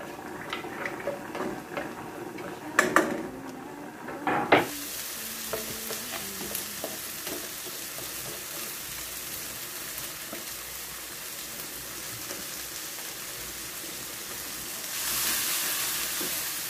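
Chopped onion and collard greens sauté in a pan: a few utensil clinks and scrapes at first, then a soft, steady sizzle that carries on quietly to the end.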